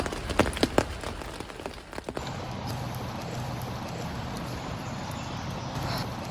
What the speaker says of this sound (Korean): 하루 종일 비가 오다가 지금도 비가 오고 있어요.